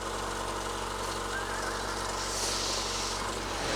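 A 30-year-old Honda Civic engine runs steadily, a continuous rough drone with no pauses, close by and fairly loud.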